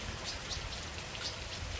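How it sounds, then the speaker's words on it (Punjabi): Steady rain patters down in an even, close hiss with scattered drops, continuous and fairly quiet. "ਮੀਂਹ ਪੈਣ ਨਾਲ"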